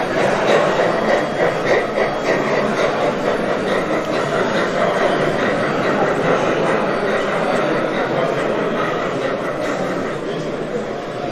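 Gauge 1 model trains run on a club layout at a meet in Munich, a loud, continuous rolling rumble with faint rhythmic wheel clicking, steady throughout and fading slightly at the end.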